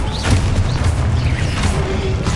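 A Confringo blasting spell explodes in the Hogwarts Legacy video game: one short, heavy boom with crashing rumble, loud and up front.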